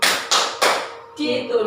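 A group of participants at a training session claps in unison as part of a clapping routine: three sharp, crisp claps spaced evenly about a third of a second apart, followed by a voice speaking.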